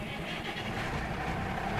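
A tractor engine in a farming video game runs with a loud, steady broadband rumble that holds evenly for the whole stretch, with no voices over it.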